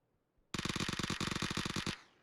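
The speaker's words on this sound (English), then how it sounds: "gunfire." A rapid burst of automatic gunfire in PUBG, dense repeated shots for about a second and a half, close and loud, then a short fading tail.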